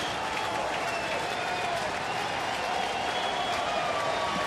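Dense, steady roar of a baseball stadium crowd at a Reds home game against Arizona, cheering and clapping continuously at a distance, with a faint voice and whistle-like tones mixed in.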